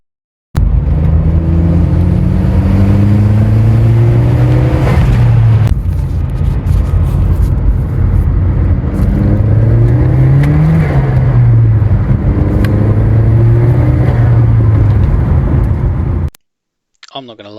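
A classic Saab 900 engine with an open air intake and Trionic 5.5 management revs repeatedly up and down, loud and close, in steady rising and falling surges before cutting off.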